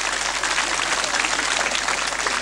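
A crowd applauds continuously at the opening ceremony of the 1998 Unicourt Chernitskaya Memorial tennis tournament in Kharkiv, producing a dense, even wash of clapping with no breaks.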